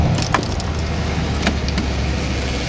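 A Mercedes-AMG SL63 heard from inside the cabin as it sets off, a steady low engine rumble with faint clicks and rattles over it, no talking.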